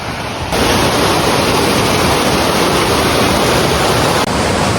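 Steady, loud roar of a waterfall in a hilly forest in Odisha, heard up close as a continuous broadband rush of falling water with no voices.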